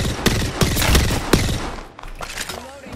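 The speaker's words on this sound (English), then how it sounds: "They're fighting in the building. They're shooting them in the back." Gunfire inside a building during an Apex Legends match, with rapid bursts of shots and thuds mixed under game noise and talk.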